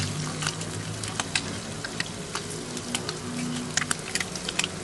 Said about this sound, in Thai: ทอดปลาไม่ยากเลยค่ะ